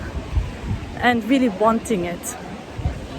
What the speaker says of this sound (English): Sorry about the noise of the ocean.